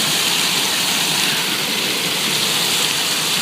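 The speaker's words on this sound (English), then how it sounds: "It falls down to the waterfall." A small stream spills over an edge into a waterfall outdoors, a close, loud and steady rushing wash of water with no break.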